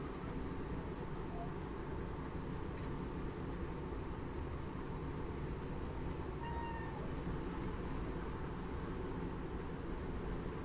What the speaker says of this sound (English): She just sat there meowing at me.